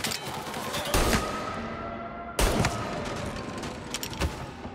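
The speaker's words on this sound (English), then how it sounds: "dudes with freaking machine gun?" Machine gun fire in Mafia Definitive Edition, sounding as dense rattling bursts with sharp onsets near 1 and 2.4 seconds, loud and close, over a steady noisy din with no talk.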